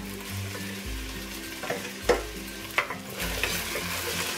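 Beef and rice stir-frying in a wok, a steady close sizzle broken by several sharp scraping tosses of a spatula against the pan, no voices.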